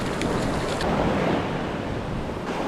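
Surf breaking along a sandy beach shoreline at a fishing spot, a steady broadband wash of waves close by with some wind rumble and no voices.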